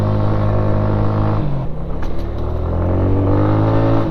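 A Genuine Buddy 125 scooter engine with a carburetor in need of cleaning revs hard at full throttle, holding a loud steady drone that stumbles and dips briefly midway before climbing back to a strong, rising whine.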